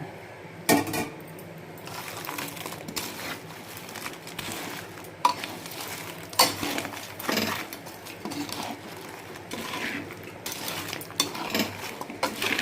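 Broiler chicken pieces stirred with garam masala, clove, cinnamon and cardamom powder for pickle, with a spoon scraping and clinking against the pan in a steady irregular rhythm throughout, close and moderately loud.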